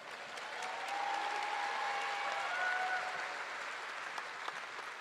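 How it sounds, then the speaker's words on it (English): Graduating class of 2025 at a university commencement cheering and applauding, a sustained dense roar of clapping and cheers from a large crowd. "Yes, you can cheer for that"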